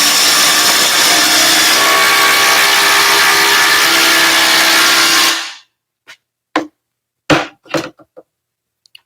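Two impact drivers, a Ridgid and a Harbor Freight Hercules, both set to speed 3, drive 4-inch timber lock screws side by side, a loud steady hammering rattle that lasts over five seconds and stops abruptly, followed by a few short clicks and knocks.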